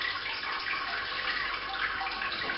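Sparge water, roughly 13 litres, is poured over the grain bed of a Robobrew all-in-one brewing system on a home brew day, a steady close rushing splash that runs without a break.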